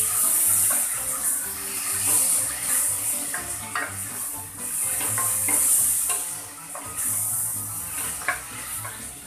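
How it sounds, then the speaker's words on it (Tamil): Tomatoes fry in a pan for tomato kurma, with a continuous loud sizzle and repeated scraping and stirring strokes of a spoon. No one speaks. "இந்த மாதிரி நல்லா கிளறி விட்டதும்"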